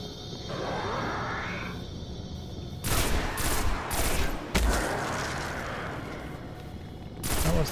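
Enemy gunfire in the Destiny video game comes as rapid bursts of shots and heavy booms over a humming background, clustered loud volleys in the middle and again near the end.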